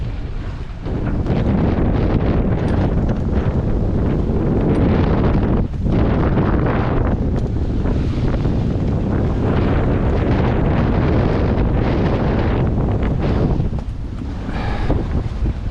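Strong wind buffets a sailboat at sea between Madeira and Gran Canaria, gusting to about 25 knots, a loud, steady roar of wind across the microphone with brief dips and surges and a wash of water beneath, no one speaking.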